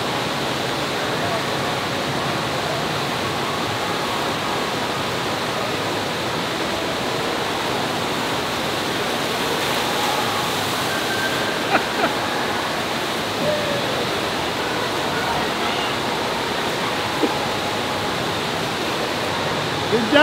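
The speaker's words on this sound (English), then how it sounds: "So they're going to try this flow rider surfing thing, boogie board." Steady, loud rush of churning water from a FlowRider surf machine at a water park, where someone rides it on a boogie board; a continuous broadband roar runs unbroken throughout with faint knocks on top.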